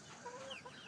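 Chickens in a chicken house give a brief, faint cluck or two, quiet and somewhat distant.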